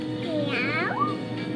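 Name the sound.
cat meowing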